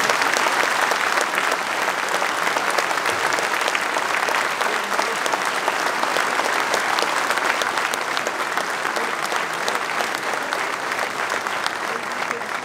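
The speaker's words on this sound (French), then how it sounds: "Je voulais ce soir que vous applaudissiez nos sapeurs-pompiers" A large audience at a New Year's greetings ceremony applauds the town's firefighters, a long, dense, unbroken wash of clapping held at a steady loud level with no voices on top.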